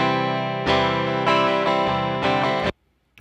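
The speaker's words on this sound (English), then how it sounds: "And by the way, without a cab lock," Electric guitar through a real Fender Princeton amp with no cab simulation, played as sustained chords that restrike a few times with a buzzy, bright, harmonic-rich tone, loud and alone, then cut off abruptly.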